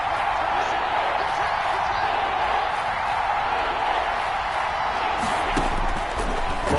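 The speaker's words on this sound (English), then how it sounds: "the crowd getting into it as we come up on a big 3rd down" A football stadium crowd cheers and roars in a steady, dense wall of noise during a big third-down play in a Bills game, loud and continuous throughout with a slight swell near the end.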